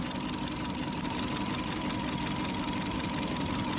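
A Kia Ceed engine with a rich-mixture fault (P0172) idles steadily, giving a continuous, even mechanical hum and rumble for the whole stretch with no talk.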